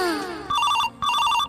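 A telephone rings with an electronic warbling tone in two bursts, each about a third of a second, loud and close, after a rising tonal sweep at the start.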